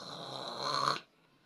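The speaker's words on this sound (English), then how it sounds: "your man snores like a pig" A man snores loudly in a single rasping, throaty breath that swells for about a second, then cuts off into near silence.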